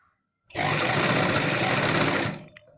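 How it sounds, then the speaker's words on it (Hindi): Sewing machine stitching the back neck of a blouse, one continuous loud whirring run of about two seconds that starts and stops abruptly after a short silence. "आप मशीन से सिलाई भी लगा सकते हैं"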